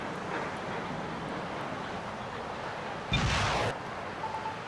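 An AMRAAM air-to-air missile launch in the naval warfare game Naval War: Arctic Circle, a short whooshing roar lasting about half a second, rising out of a steady windy background rumble.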